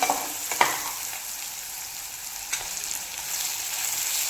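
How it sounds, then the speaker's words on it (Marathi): Chopped onion and tomato fry and sizzle in a pan over a gas flame, a steady hiss for a Marathi-style spiced leftover rice, with a couple of sharp stirring clinks near the start and midway. "टोमॅटो हे छान असा परतवून घ्यायचा आहे आपल्याला इथे टोमॅटो आणि कांदा फ्राय करण्यासाठी"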